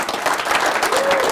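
An audience at an Optimist Club talk applauds veterans in a brief, dense burst of clapping that stays loud and steady throughout, with some crowd murmur mixed in.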